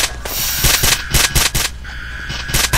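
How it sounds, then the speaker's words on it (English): A gun fires in a Roblox SCP game: a loud, fast string of synthetic gunshot bursts, evenly spaced and close, over a constant game background hum. "I'm just gonna shoot him in the butt."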